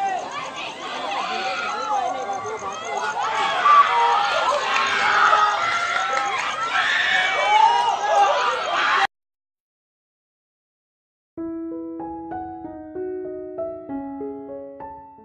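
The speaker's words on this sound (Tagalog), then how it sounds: "Isang nakakakilabot na mga hiyawan ng mga kababayan natin ang maririnig sa Cagayan Valley" A crowd of people in Cagayan Valley after Typhoon Ulysses screams and shouts in a dense, chaotic chorus for about nine seconds. It cuts to silence, then soft, simple tonal music plays.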